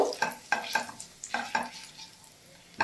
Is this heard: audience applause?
no